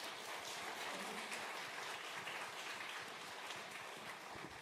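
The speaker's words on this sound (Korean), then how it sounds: "우리 하나님께 영광의 박수를 올려드리겠습니다." Congregation clapping at a Sunday church worship service, a dense, steady wash of applause sustained across the whole moment, fairly loud with no clear individual claps standing out.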